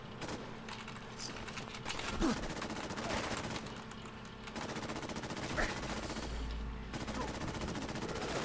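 Rapid bursts of laser and ballistic gunfire crackle through a Fallout 4 firefight, dense, repeated and close, with someone talking over the shooting.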